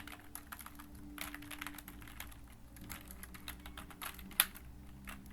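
Rapid keystrokes clatter on a computer keyboard while an SQL insert statement is entered, a quiet, steady run of taps with one sharper key strike near the end.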